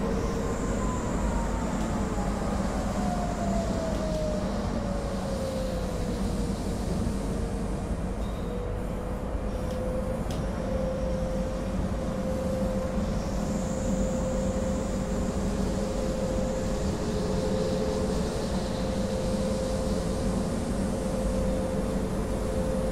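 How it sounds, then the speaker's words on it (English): An ÖBB 1044 electric locomotive in Train Simulator 2016 on the Semmeringbahn runs with a steady, unbroken drone and a sustained tonal whine that slowly shifts pitch, continuous and fairly loud throughout, with no talking. "I love driving this loco."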